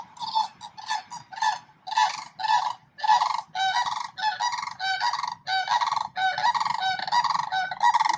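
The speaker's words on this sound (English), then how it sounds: "There are tons and tons of birds." Geese at a Florida lake community honk loudly and repeatedly, a close series of harsh, nasal calls in quick irregular bursts that run throughout, with no one speaking.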